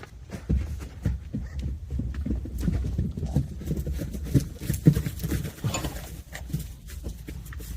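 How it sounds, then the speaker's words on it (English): Horse hooves clip-clop on hard ground in an irregular, continuous patter, several animals moving at a walk nearby. "Okay, horses."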